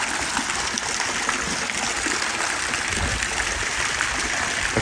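Water trickles and splashes steadily from a backyard pool water feature beside travertine decking, a continuous broadband rush heard close with no talking.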